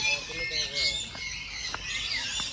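A bird squawks and chirps in short, sharp calls at Cebu Safari park, heard at moderate distance among outdoor ambience and faint background voices.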